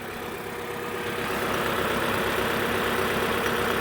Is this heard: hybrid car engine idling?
yes